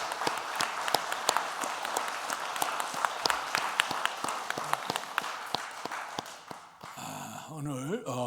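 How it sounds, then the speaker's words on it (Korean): A church congregation at a Sunday worship service gives a long round of steady applause, with crisp overlapping claps throughout, before a voice begins speaking at the end. "박수로 다시 한번 격려 한번 하겠어요"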